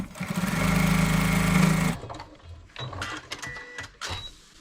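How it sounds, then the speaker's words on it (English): A sewing machine runs steadily for about two seconds while top stitching the edge of a zipper pouch. It then stops, followed by quieter clicks and fabric handling. "I'm just top stitching it down."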